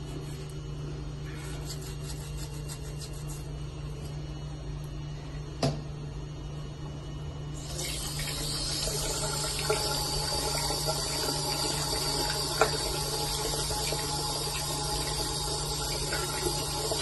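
Tap water runs steadily into a basin or tub for washing feet during a foot-care pedicure routine, a constant splashing hiss that grows brighter partway through, with a single sharp knock early on.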